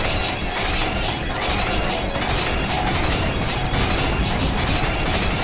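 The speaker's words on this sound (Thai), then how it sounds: "มันจะระเบิดใส่ผม" Continuous explosive bursting and shattering effects from the video game Pokémon Rumble U, a dense, loud barrage of blasts and breaking sounds with no pause.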